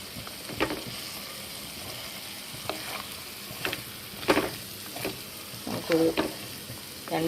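Amla pickle being sautéed and stirred in a pan, with a steady low sizzle of frying under repeated scraping stirs at irregular intervals, close and moderately loud.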